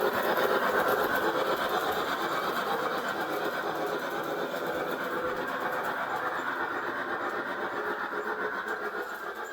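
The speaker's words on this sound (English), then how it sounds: "when it decelerates, you actually hear the chuffs go silent like trains do when they go into like a coast mode" Rapid, rhythmic chuffing from a small Piko G scale DB BR 50 model steam locomotive, steady and fairly close, gradually fading slightly as it continues; no voices.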